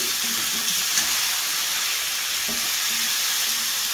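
Shrimp fry in a pan for a mashed shrimp dish, a continuous broad hiss of sizzling oil with light stirring, close and steady throughout, without speech.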